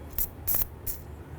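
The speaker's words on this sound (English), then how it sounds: "So we're going to use some penetrant, and I'm just going to go right on this adjuster." Three short bursts of penetrant spray hit the rear brake adjuster of a 2006–2018 Jeep Wrangler, close hissing puffs separated by brief pauses, the middle one longest.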